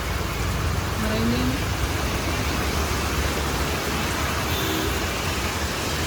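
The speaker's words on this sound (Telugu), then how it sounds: "ఈ వర్షం తగ్గితే వెళ్ళి కొరియర్ అయితే చేయించుకోవాలి" Steady rain falling outdoors, a dense, even hiss of drops on surfaces that continues unbroken throughout at a fairly loud level.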